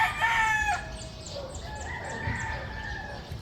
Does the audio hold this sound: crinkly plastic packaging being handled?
no